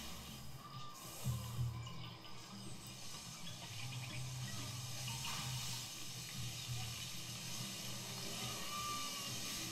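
Water flowing in Zoo Tycoon on Xbox One, a steady soft rushing hiss that holds evenly throughout, fairly quiet with no talking.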